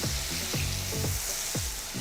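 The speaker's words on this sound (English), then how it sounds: "Man, listen to the sizzle in that pan." Butter sizzles and crackles steadily in a hot cast iron skillet, a bright continuous hiss with soft low thumps recurring underneath.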